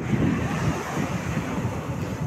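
Sea waves wash onto the beach at Porbandar in a steady broad roar, mixed with strong wind buffeting the microphone.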